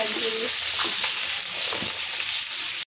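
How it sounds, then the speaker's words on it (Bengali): Fish pieces fry in hot oil in a pan with a loud, close, continuous hissing sizzle and a few bubbling pops, cutting off abruptly near the end. "এখানে মাছগুলো ভাজা হয়ে গেছে"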